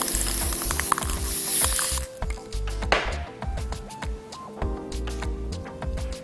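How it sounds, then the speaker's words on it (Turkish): Spray paint misted lightly from about 30 cm through a stencil onto wood gives a bright, breathy hiss for roughly two seconds, then stops, with background music running throughout. "30 santim kadar uzaktan hafifçe sıkıyorum."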